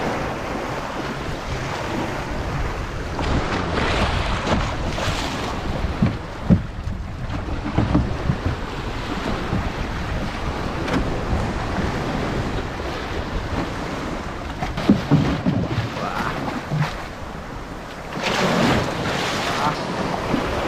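A boat moves across open water with waves splashing and steady wind buffeting the microphone; a few faint voices come and go.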